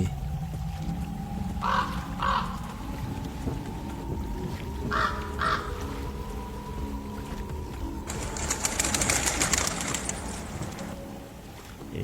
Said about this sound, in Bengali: কোনো এক রাত পাখি তখনই কর্কশ স্বরে ডেকে ওঠে